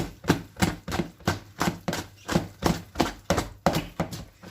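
Lokma dough being beaten by an oiled hand in a bowl, a steady rhythm of about a dozen wet, slapping thuds at roughly even intervals, close and fairly loud with no talk.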